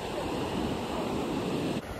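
Sea waves washing onto Marina Beach on the Bay of Bengal make a steady, broad roar of surf, loud and continuous with wind noise mixed in, then dip briefly right at the end.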